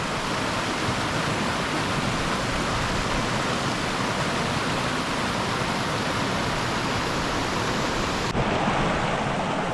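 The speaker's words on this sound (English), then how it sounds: "I'm sure you can hear that creek just roaring behind me" A creek roars close by at Ramey Creek, a dense, unbroken wash of rushing water filling the whole clip at a steady, loud level, with no voices.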